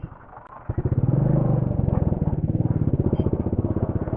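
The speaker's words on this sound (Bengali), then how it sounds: "আর বাইকের একটা সুবিধা পাওয়া যায় যে বাইকটা আপনি নিয়ে এগাতে পারবেন।" A motorbike on a hill road with a river nearby idles, then pulls away with a steady, close, throbbing engine note that holds firm to the end, and nothing else stands out.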